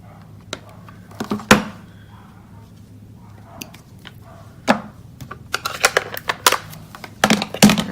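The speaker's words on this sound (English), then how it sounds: "I'm just going to cut that out with that punch" A paper craft punch cuts a stamped butterfly out of card stock, giving a series of sharp clacks and dull thunks at irregular intervals, close by and without talk.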